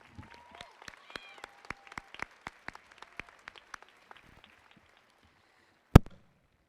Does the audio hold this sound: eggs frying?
no